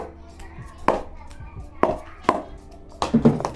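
Sharp taps on a Kookaburra cricket bat ring out at irregular intervals, four or five distinct knocks, close and fairly clear, with faint background voices between them.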